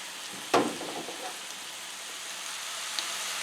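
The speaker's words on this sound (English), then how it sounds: "Okay, my sausage is about half done right now. I'm going to continue browning it." Sausage browning in a pan gives a low, steady sizzle, with a sharp spattering burst near the start and a few fainter crackles after it.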